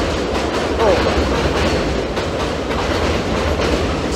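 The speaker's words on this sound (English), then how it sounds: "Here comes the train." A train rumbles past close by with steady rail clatter and wheel noise, loud and continuous, while a person speaks briefly during dog bite-work training.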